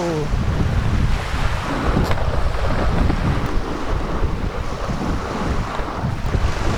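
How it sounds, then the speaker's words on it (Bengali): Strong sea waves pound the shore at Digha beach after Cyclone Asani, a continuous roaring surf mixed with heavy gusting wind buffeting the microphone, loud and unbroken throughout. "কি জোরে জোরে ঢেউ মারছে দেখো"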